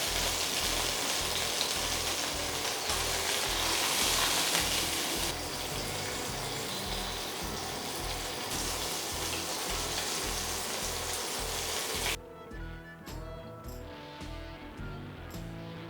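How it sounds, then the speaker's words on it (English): Iberico pork collar with visible fat fries in a pan, giving a steady, loud, dense sizzle throughout that changes character near the end as the crackling thins and grows more textured. "This is going to fry up beautifully."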